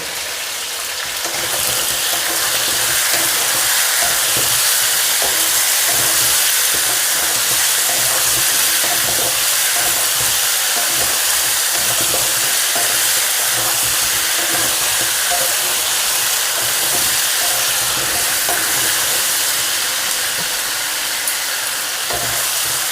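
Carrots go into a frying pan for a chicken stew, setting off a loud, dense, hissing sizzle that holds steady for a long stretch without any talk.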